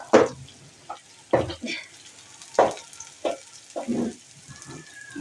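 Vegetables soften in oil on a lowered flame for a pointed gourd and prawn curry. Several distinct stirring scrapes and clatters come in uneven bursts over a faint sizzle with quiet gaps between them.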